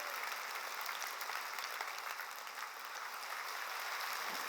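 Congregation applauding during a church sermon, a dense, steady wash of clapping from many hands that fills the whole stretch without pause, with no voice standing out.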